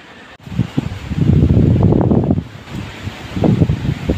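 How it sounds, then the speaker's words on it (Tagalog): Strong typhoon wind buffets the microphone in heavy, rumbling gusts that rise and fall, with rustling between the blasts and no voices. "Pero grabe yung lakas ng hangin."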